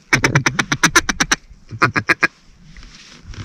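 A duck quacking during a North Dakota duck hunt, a fast run of loud, close, rhythmic quacks, a short pause, then a second burst that fades into quiet outdoor background.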